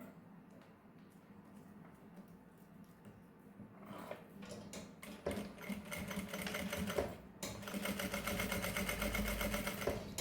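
A sewing machine runs a seam along a mesh-fabric fanny pack. Quiet handling and positioning noises come first, then close, steady mechanical whirring in a couple of bursts for the second half.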